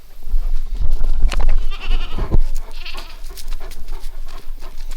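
Goats bleat loudly and close by on a small farm, several overlapping cries in quick succession over a low rumbling background.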